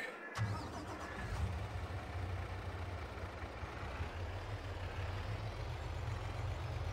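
Truck engine in Farming Simulator 22 starting with a short crank, then settling into a steady, rumbling mid-pitched idle that holds near and loud throughout.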